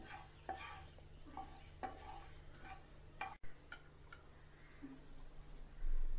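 Whole coriander seeds dry-roasting in a pan as a first step for Punjabi chole masala, with soft scraping stirs and faint crackling, quiet and close, in regular strokes.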